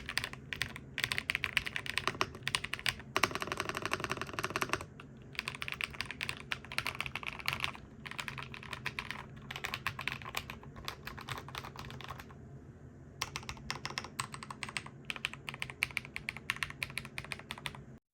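Fast typing on a Redragon K708 Pro gaming keyboard produces a continuous clatter of crisp key presses in quick bursts, with short pauses and a few louder runs, close and without talk.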